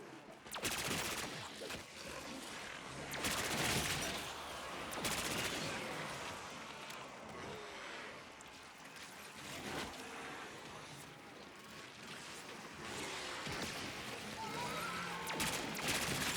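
Sustained automatic fire from an AK-74 rifle in Black Ops 6 Zombies, a continuous dense stream of gunshots with loud bursts throughout, layered over game effects.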